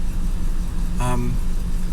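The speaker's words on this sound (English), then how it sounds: "Stuck in a bit of traffic now. It's a rush hour here." Low steady hum of a 1968 Rover P5B engine and road noise from inside the car in rush hour traffic, with a brief tonal burst from passing traffic midway.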